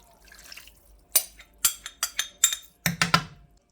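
Beef broth is poured into a pot of green chili taco soup, giving a series of close, splashy liquid glugs and splatters over a few seconds.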